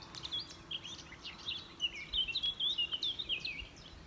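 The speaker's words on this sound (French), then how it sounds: "Nous entendons les chants des oiseaux à l'arrière-plan." Small birds sing at a distance, with quick high chirps and trills repeating in a lively run over faint steady background noise, and no voices.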